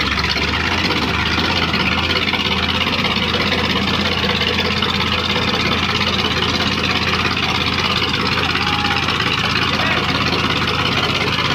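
Eicher 551 and Mahindra 475 tractors locked in a friendly tug-of-war, their engines droning steadily and loud throughout, with a low rumble and a crowd murmuring underneath.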